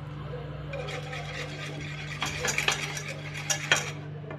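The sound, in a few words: stirring a sweet mixture in a pot until it boils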